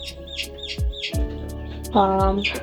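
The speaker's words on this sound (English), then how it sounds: "I think it's the one that's chirping right now." A sick broiler chick gives a few short, high, downward-sliding peeps, close and fairly clear over a low steady background hum, with no talking.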